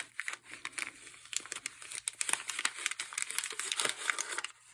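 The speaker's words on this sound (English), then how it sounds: "Now I'm ready to pull this paper out." Paper foundation pulled out from the back of a fabric quilt block, a run of close, crisp crinkling and tearing rustles in uneven bursts, nearby and fairly loud, no voices.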